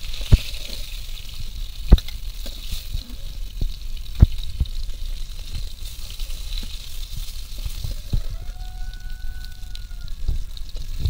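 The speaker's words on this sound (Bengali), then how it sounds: "এই মাছটা একটু ভেজে নেব" Fish sizzling as it fries in hot oil in a home kitchen, a steady close crackle with occasional sharper pops and spatters, heard alone without talk.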